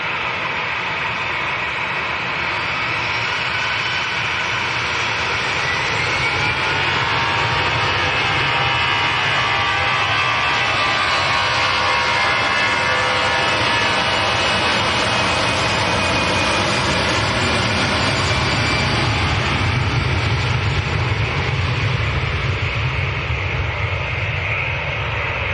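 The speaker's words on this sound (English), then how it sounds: "So next to go is going to be EasyJet to Nice, which is lined up and about to roll" EasyJet jet airliner on its takeoff roll at Manchester Airport, bound for Nice: a loud, steady, broadband engine roar that holds for the whole stretch, swelling slightly toward the end, with no talk over it.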